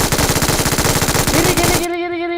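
Rapid automatic gunfire from the PUBG Mobile battle royale game, a loud sustained burst of evenly spaced shots that stops near the end, leaving ringing tonal game sounds.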